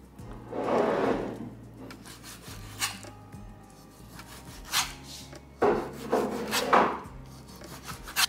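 Knife chopping and mincing chicken thigh on a wooden cutting board, with bursts of scraping, rubbing strokes and scattered taps at close range, no talking.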